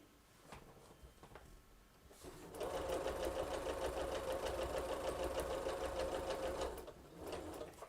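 After a few soft handling clicks, a sewing machine starts up and stitches a quilt row in one continuous close whirring run of about four seconds, then stops and a couple of light clicks follow.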